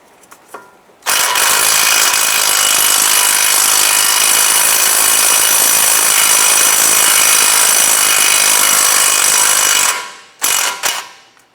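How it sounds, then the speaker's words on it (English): A 14mm socket on a ratchet or power tool loosens the outer tie rod end nut on a 2007-2012 Nissan Versa, a loud, steady buzzing rattle lasting about nine seconds, then stopping abruptly with a couple of short bursts. "Go ahead and loosen this nut here on the outer tie rod end nut."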